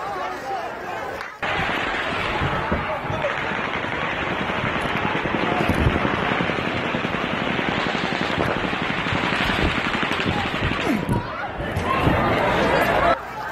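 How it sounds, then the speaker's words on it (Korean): Sustained automatic gunfire is fired from a hotel's 32nd-floor window into a crowd at a Las Vegas outdoor concert, a dense distant rattle that stops briefly, then resumes for many seconds amid crowd noise. "총성이 잠시 멈춘 뒤 또다시 수백여 발의 총탄이 군중들을 향해 발사됩니다."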